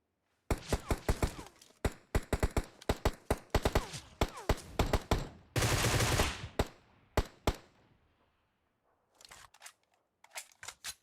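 Gunfire in the video game PUBG, rapid bursts of sharp shots in quick strings, including a dense automatic stretch, then sparser single shots fading toward quiet near the end.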